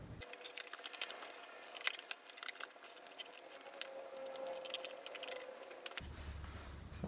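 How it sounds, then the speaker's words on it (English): Cardboard being cut into a mock-up part for a 2019 electric motorcycle build, heard as a steady run of close, scratchy snips and crinkly rasps with small taps, ending in a brief low thump. "So I'm going to mock something up out of cardboard first and cut that out and see if it fits."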